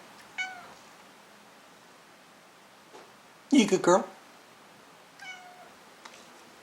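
A pet cat meows a few times, short calls spaced apart, with a voice talking briefly in the middle.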